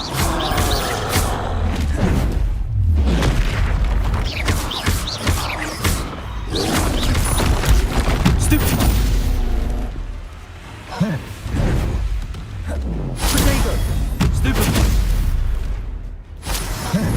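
Spell explosions from the Confringo curse in Hogwarts Legacy burst in a dense, continuous string of booms and thuds, loud and close, mixed with whooshing casts, while a person talks over the action.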